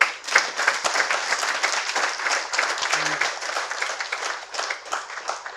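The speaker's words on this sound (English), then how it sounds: "Please give him a round of applause." An audience applauds a government servant at a public policy book discussion, steady dense clapping throughout at moderate loudness, with a brief low voice or murmur partway through.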